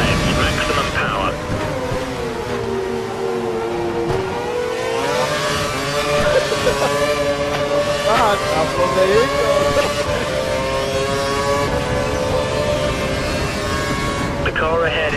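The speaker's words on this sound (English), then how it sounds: "He's running full revs, maximum power." A race car engine held at full revs in a racing video game at Hockenheim, a loud continuous high-pitched engine drone with slight pitch shifts through the whole stretch, under a voice talking.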